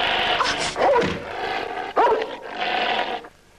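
A dog barking and growling up close in a film scene, rough snarling growls broken by a few sharp barks over about three seconds, loud and harsh, then fading out.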